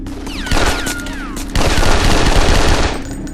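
Rapid automatic gunfire in James Bond 007: Nightfire, loud bursts with ricochet-like whines early on, then a dense sustained volley that fades near the end.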